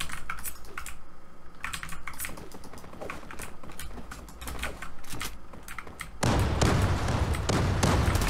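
Rapid computer keyboard keystrokes while playing Zula, close and continuous clicking over game noises, with a louder burst of gunfire and action in the final seconds.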